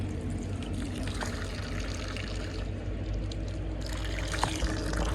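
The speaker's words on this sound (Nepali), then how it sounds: "पानी खाने पानी भर्ने यसो हातपात धुने" Tap water pours and trickles steadily at a roadside drinking-water spot while someone washes their hands and feet, a continuous splashing stream with a low hum beneath it and no talking.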